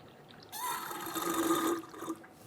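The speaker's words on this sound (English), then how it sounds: "we're going to use a tool like this to siphon out the old fluid out of the master cylinder" Old brake fluid being siphoned from the master cylinder of a 2013-2022 Buick Encore, a soft close liquid trickle and slurp lasting about a second and a half, with no talk.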